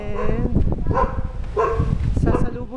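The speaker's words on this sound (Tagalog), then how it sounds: "sasalubong sa inyo ang dalawang aso na inaalagaan ni Papa palagi" Two dogs bark in short sharp bursts nearby, several yaps in quick succession, with people talking over them, at a house in Silang, Cavite, Philippines.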